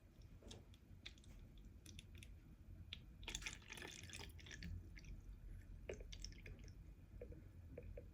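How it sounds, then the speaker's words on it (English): Water from a jug trickles gently through a funnel into a bottle, quiet splashing and dripping with a brief louder gush midway, close and soft with no talking. "So we're just gonna pour in some water, guys,"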